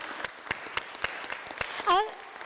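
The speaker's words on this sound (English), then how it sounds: "Let's give a round of applause to Rain." A panel forum audience gives a modest round of applause for a speaker, individual claps distinctly spaced and fairly faint, with a brief voice breaking in near the end.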